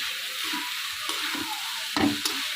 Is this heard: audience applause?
no